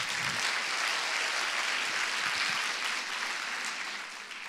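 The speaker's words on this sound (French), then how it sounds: "Et je pense qu'on peut également les applaudir." Sustained audience applause fills the room, a dense wash of clapping that holds steady and begins to fade near the end.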